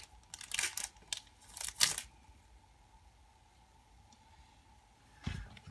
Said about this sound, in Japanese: じゃあ、2パック目を開封したいと思います